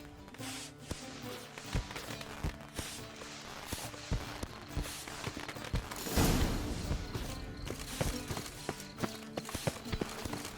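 Horse hooves clip-clop in The Witcher 3 video game as a steady run of close taps over ambient game sound, with a fuller swell midway.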